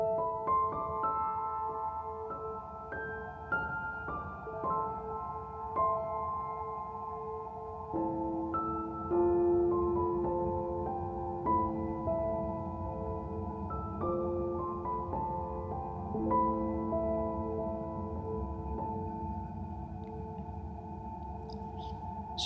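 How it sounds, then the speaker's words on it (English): Piano improvisation in A natural minor using only the white keys, a slow meandering melody over sustained chords lasting over twenty seconds, moderately quiet and close with no speech. "And this is a little jam I had on the piano using this scale."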